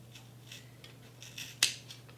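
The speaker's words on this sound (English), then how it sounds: "you're just going to slowly cut through each of the strings" Quiet snips of scissors cutting through yarn strands for a pom pom, a few soft cuts followed by one sharper, louder snip near the end, over a faint steady hum.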